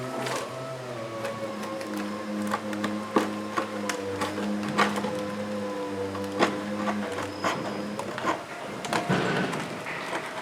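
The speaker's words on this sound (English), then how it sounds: "I'll just take the chisel and scrape that caulk off." A chisel scrapes old caulk and seam compound out of a wooden boat hull seam, giving a series of sharp, uneven scraping strokes and clicks over a low background hum, fairly close and moderately loud.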